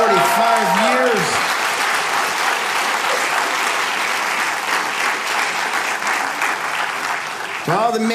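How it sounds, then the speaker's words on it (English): A comedy-show audience applauds a married couple together 45 years, steady broad clapping filling the room for several seconds, with a voice and harmonic tones briefly audible at the start and end. "Give them a round of applause"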